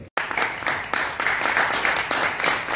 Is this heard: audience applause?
yes